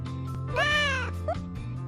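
Cats meow inside a cat cafe, one long clear, tonal meow in the middle and a shorter one after it, close by over a steady low room hum.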